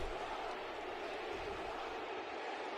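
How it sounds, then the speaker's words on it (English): Baseball crowd at a Yankees vs Detroit Tigers game chanting for Austin Meadows, heard as a dense, steady roar of many voices with no distinct individual words. "The crowd is literally chanting Austin right now"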